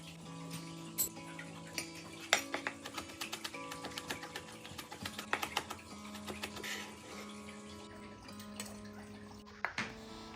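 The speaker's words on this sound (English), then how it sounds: "I finely mince the garlic to enhance the aroma and depth of the" A knife finely minces garlic on a cutting board while making tonkotsu ramen. Quick, uneven chopping taps come up close, with bursts of rapid strokes and short pauses in between.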